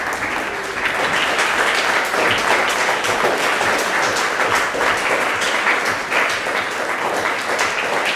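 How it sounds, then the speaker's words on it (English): A crowd claps for a group with dense, sustained applause that stays steady and fairly loud throughout, filling the room without a break. "give this group a round of applause."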